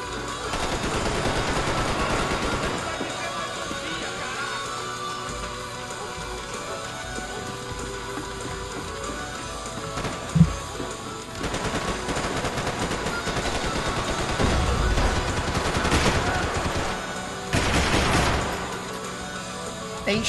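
Gunfire in a Max Payne 3 multiplayer match, with dense bursts of automatic shots and scattered single cracks layered over continuous game noise and music, louder volleys rising near the middle and end.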